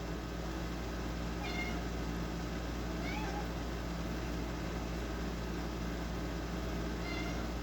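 A few faint cat meows rise above a steady, noisy background hum, spaced out over several seconds.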